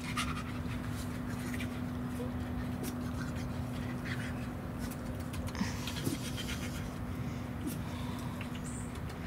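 Several five-week-old puppies pant in quick, faint breaths close by, with light scratching and shuffling and brief quiet speech in the background.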